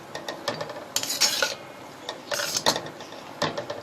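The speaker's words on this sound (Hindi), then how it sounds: "ये हमने मिक्स कर दिया।" Chicken pieces for fried rice are stirred into a mixture with quick, repeated scraping and clinking of a spoon against the bowl, close and busy throughout.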